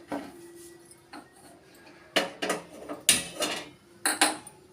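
Metal cookware clanks and scrapes on a kitchen surface as a pot is set down while cooking chicken, with several sharp knocks in quick bursts, close and clear with no talking.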